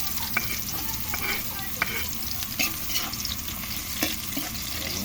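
Ginger and onion sauté in a hot pan, a continuous close sizzle broken by scraping stirs and a few sharp utensil clicks, with no talking.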